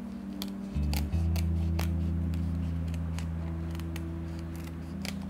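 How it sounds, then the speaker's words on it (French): Scissors snip repeatedly through a braided cord for a two-colour four-strand braided choker, sharp close cuts spaced over a steady low hum. "Et on découpe au ciseau"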